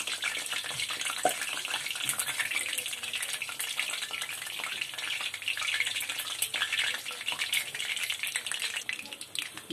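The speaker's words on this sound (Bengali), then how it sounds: "আমি বেশি লাল লাল করে ভাজবো না, সাদা করেই ভাজবো, তাহলে নরম থাকবে।" Luchi, puffed white flatbread, frying in hot oil, with a dense continuous sizzle and crackle that runs steadily throughout at close range.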